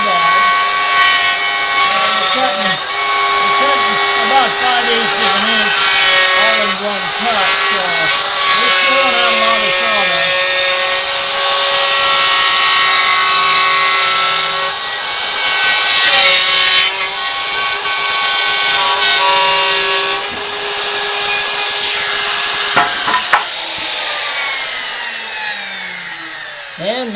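A router fitted with a template guide cuts about 5/8 inch deep into wood while shaping a sign, a loud steady whine running continuously and trailing off near the end, with someone talking over it.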